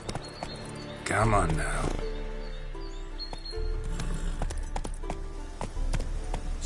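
A horse's hooves clop along in The Witcher 3 video game with a steady rhythm, mixed with other game sounds and a voice speaking briefly over it.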